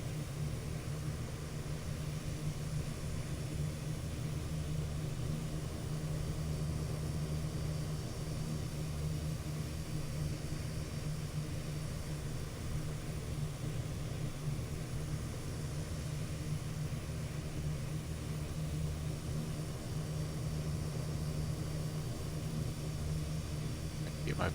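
Airplane engines drone steadily through a takeoff roll, heard from inside the aircraft as a constant low roar with quiet talk underneath.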